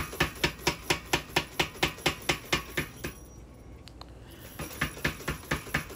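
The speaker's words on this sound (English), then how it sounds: "So I'll go so far with this power hammer, and then I'll go back to the anvil and finish it off by hand." A power hammer draws out the tang of a small integral bolster knife, striking in a fast, even run of loud blows that pauses briefly and then resumes.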